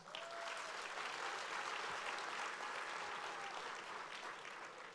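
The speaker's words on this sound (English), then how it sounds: "Please join me in giving her another round of applause." Sustained, even applause from a seated crowd at an anniversary awards gala, a broad wash of clapping holding steady for about five seconds before easing slightly at the end.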